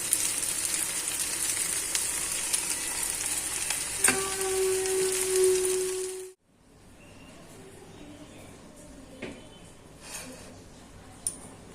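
Banana flower curry frying loudly in a pan with a steady sizzle and occasional clinks. A brief tone rings out partway through, then the sizzle cuts off, leaving a quieter stretch with faint clinks.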